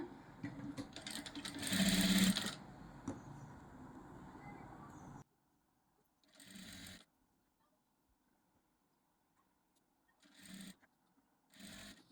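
Sewing machine stitching thread piping along the edge of a cut-work neckline, a loud running burst followed by several short separate bursts with quiet gaps between them.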